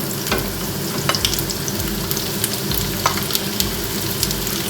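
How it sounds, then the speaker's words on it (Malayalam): Two medium onions frying in hot coconut oil in a pan, a continuous close sizzle with occasional stirring scrapes and small pops throughout. "ഈ ചൂടായ എണ്ണയിലോട്ട് ഒരു ഇടത്തരം 2 സവാളയാണേ അതിട്ട് കൊടുക്കാം."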